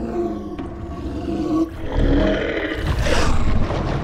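A deep, rumbling roar from a giant koi fish in the video game Grounded swells up, mixed with churning watery noise, loud and close with no talking.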